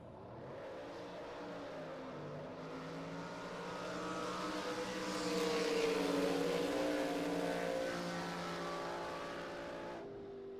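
A big block Chevy drag racing car roars in the left lane during qualifying, its engine note building to a loud peak midway and then easing off, steady and alone without voices.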